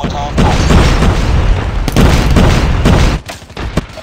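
Grenade blasts and heavy gunfire in a Call of Duty Hardpoint match, a loud, near, continuous barrage of booms and shots that cuts off briefly near the end before a few more hits.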